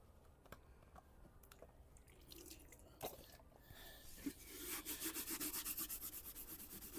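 Rusty chrome being scrubbed by hand with water and an SOS steel-wool pad in a shop, giving an uneven, gritty rubbing with scattered scrapes that builds into a steadier, louder back-and-forth rhythm near the end, close and with no talk.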